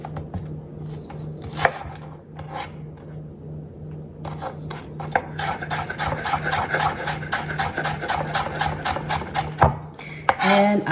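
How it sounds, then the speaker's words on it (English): A knife chops a small red onion on a cutting board, slow scattered cuts at first and then a quick, steady run of close, crisp chops, with a low hum behind. "I am also gonna cut up a little purple onion"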